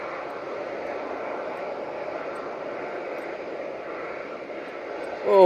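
A turboprop airliner landing in strong wind gives a steady, distant propeller drone at an even level, with a sudden louder burst right at the end.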